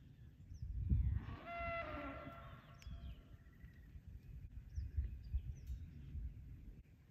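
Dexter cow and calf mooing on a farm, a drawn-out bellow rising midway through over a rumbling, breezy outdoor background with faint bird calls.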